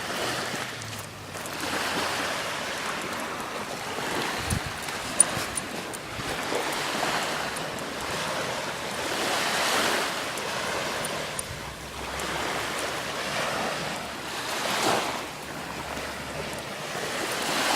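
Ocean surf washes up on a beach in slow, repeated swells, steady and fairly loud, with some wind buffeting the microphone and no voices.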